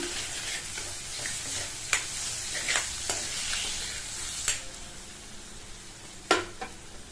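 Spices with turmeric powder and salt being stirred in a frying pan for a potato side dish: gentle sizzling under repeated spoon scrapes and occasional sharper knocks against the pan.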